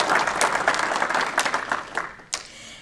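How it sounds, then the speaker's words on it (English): Audience at a county board of education meeting applauds a high school math teacher, a full burst of clapping that thins out and tapers off toward the end, with a few late claps. "Please give Ms. Irvin a round of applause."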